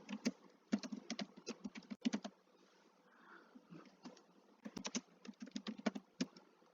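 Typing on a computer keyboard while writing web page code, in two rapid bursts of close, crisp key clicks separated by a quieter pause, with no talk.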